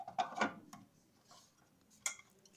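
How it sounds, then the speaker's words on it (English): A CPU heat sink is fitted into a Lenovo IBM 8212 desktop computer. A few close metallic clacks and scrapes cluster early, then one sharp click follows after a quiet stretch. "I'm going to insert the heat sink in this machine"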